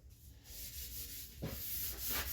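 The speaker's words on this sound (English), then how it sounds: "you're going to take a little bit and you're going to rub the board." A wooden cutting board being rubbed by hand, a steady dry scrubbing that keeps going for a couple of seconds, with a few stronger strokes near the end, close and fairly quiet.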